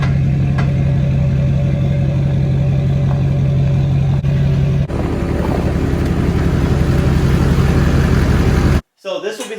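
A Duramax diesel truck rolls off a trailer, its engine a steady, loud low drone with rumbling idle texture that holds throughout before cutting out abruptly near the end.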